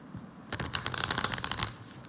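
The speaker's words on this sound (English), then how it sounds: "Let's shuffle one more time." A deck of tarot cards is riffled and shuffled in a quick burst of crisp, rapid flapping that runs for over a second, close up.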